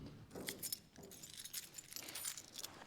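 A set of house keys jangling on a keychain wallet, quick close metallic clinks and rattles in short bursts, fairly quiet.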